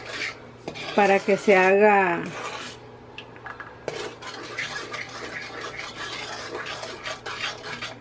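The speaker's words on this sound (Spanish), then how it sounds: "Vamos a revolver bien esto y vamos a dejar que hierva" A spoon scrapes and clinks against a pot while a syrup mixture is stirred for Honduran rosquillas. There are a few sharp metallic strikes first, then steady rasping stirring strokes under a voice speaking Spanish.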